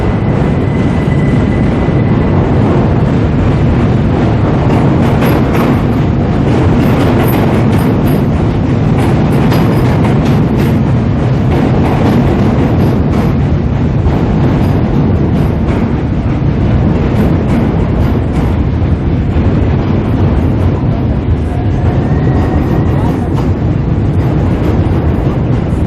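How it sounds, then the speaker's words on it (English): A train crosses the railway bridge into Charing Cross, heard from the walkway directly underneath. The rumble and roar are loud and continuous, holding steady for the whole stretch with no voices over it. "just to prove we're going underneath the railway bridge into Charing Cross, that's what you can hear above me."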